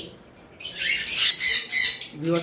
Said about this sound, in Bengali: এছাড়াও আমাদের কাছে বিভিন্ন মার্কিংয়ের কোকাটেল পাখি রয়েছে